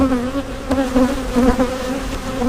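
Honey bees from a very weak colony buzz in a steady, close swarm drone as they are shaken off hive frames during a hive split, the hum rising and falling in waves.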